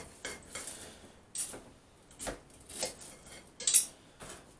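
Knife and spoon scrape and tap against a plate while a Chinese takeaway dinner is cut into bite-size pieces, a series of close, light clinks and scrapes separated by short pauses.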